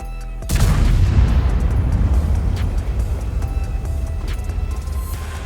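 The BZ-176 tank's main gun fires in a tank battle video game on the Westfield map, a single sharp heavy boom after a brief lull, followed by a long rumbling engine drone with faint clicks.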